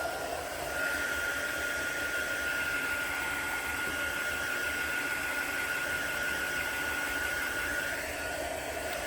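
A hair dryer blows steadily and loudly for the whole stretch, drying a mixed media artwork, a constant broadband whoosh with a faint whine.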